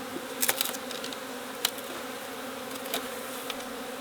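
Honey bees buzz around an open beehive during summer, a continuous close droning hum with individual bees zipping past the microphone now and then, no talk.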